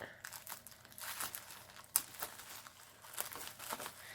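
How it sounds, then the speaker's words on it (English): Crinkly tearing and crackling of packing tape being peeled off a box, in uneven bursts with a sharp snap midway, fairly close and moderately loud. "You don't want to wait for me to peel back all this tape."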